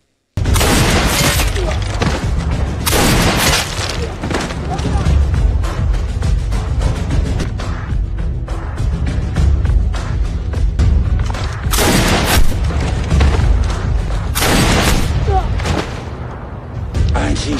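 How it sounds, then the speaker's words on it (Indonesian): Heavy gunfire and explosions fill a war film about a sniper battle between American and Chinese forces, with loud, dense bursts of shots and booming blasts, and voices talking between them. "I ain't seen shooting like that in a long time."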